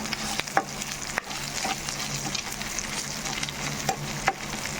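Curry leaves frying in hot oil with turmeric and ginger, a steady close crackling sizzle with occasional sharper pops and a stir or two.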